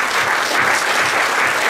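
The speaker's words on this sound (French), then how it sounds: "Je vous demande d'applaudir monsieur Nicolas Ray." An audience applauds steadily, a dense, even wash of clapping at moderate loudness, with no voices over it.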